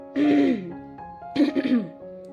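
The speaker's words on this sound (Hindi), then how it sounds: "अपना गला साफ करने लगता है।" Two rough throat-clearing rasps from a nearby person, the first longer, the second after a short pause, with no speech.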